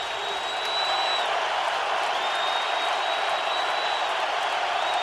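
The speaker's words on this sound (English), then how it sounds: "Crowd in full throat." An NFL stadium crowd roars loudly throughout a 2008 Patriots at Colts game, a dense, sustained wash of cheering and whooping with no break, far-off and enveloping.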